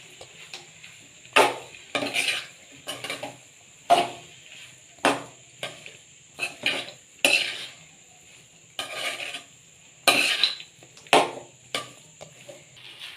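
Rice being mixed in a pan, a run of irregular scraping and clinking spoon strokes against the metal, close and fairly quiet, with no one talking.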